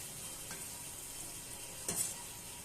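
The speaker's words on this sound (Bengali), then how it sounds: "এবার আমি বেরেস্তা ভেজে নেব" Sliced onions fry into beresta for biryani, a soft, steady sizzle of hot oil with a couple of faint stirring clinks, quiet and close.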